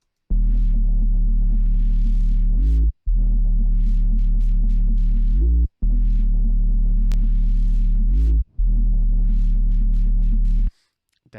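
A synthesized minimal deep bassline drones low and loud, cut into four long pulses by rhythmic EQ gating. Each pulse ends in a brief rising sweep before a short gap, with no voices.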